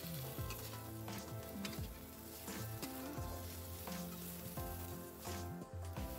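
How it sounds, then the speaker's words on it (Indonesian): Shrimp sautéing in a hot pan for a long-bean and tempeh curry, a continuous crackling sizzle with faint stirring scrapes, steady and close throughout with no talk. "Ini saya tumis aja sampai berubah warna."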